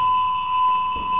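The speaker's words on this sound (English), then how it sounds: "Yo, that alarm is loud." A loud alarm in the video game Detroit, a steady piercing electronic tone held continuously at full strength throughout, with no voices.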